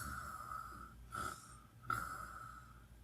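A voice imitates a person snoring during a read-aloud story, with two soft breathy snore sounds, faint and close, over a steady background hum.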